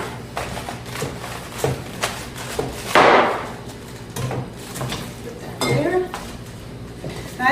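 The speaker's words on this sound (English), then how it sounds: "you just cut your kraut." Knife slicing cabbage on a board for sauerkraut, a series of close chopping thuds and clinks with one sharper crunching cut, under occasional talking.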